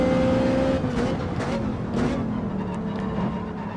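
Race car engines in a Gran Turismo 7 online race start roar steadily at close range, a sustained droning whine with slight pitch shifts as cars tuck into a slipstream heading into the first turn.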